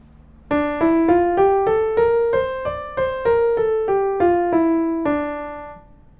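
A clean melodic instrument plays a D natural minor scale rising then falling, one steady note after another, about a dozen even tones ending on a held note.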